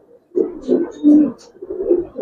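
A young male Giribaz pigeon of silver khaki colouring coos close up, a few soft, throaty, rolling coos in quick succession.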